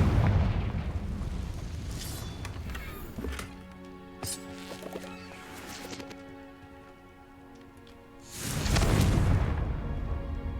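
A Confringo blasting spell explodes in Hogwarts Legacy with loud booming bursts, one at the start and a second near the end, separated by quieter rumbling game sound and no talking.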